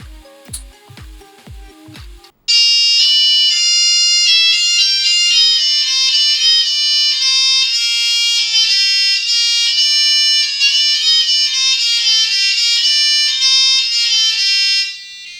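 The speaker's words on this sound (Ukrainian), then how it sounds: "а це сповіщення про відбій повітряної тривоги" After a couple of seconds of soft clicking, a loud electronic chime-like air raid all-clear melody from a U-Prox notification system, shifting high tones, plays steadily, then cuts off near the end.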